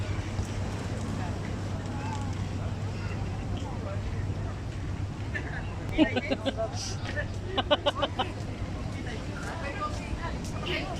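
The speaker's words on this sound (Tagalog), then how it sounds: "May kabayo daw doon oh." Horse hooves clip-clop in a few quick bursts of sharp clicks over constant wind and outdoor noise at a seaside corniche at sunset, with people talking throughout.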